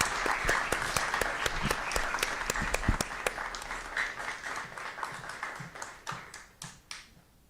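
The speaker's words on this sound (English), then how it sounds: "Round of applause for Eileen and Camila." Steady applause from a seated audience at a school district governing board meeting, many hands clapping at once, loud and dense at first and then thinning out toward the end.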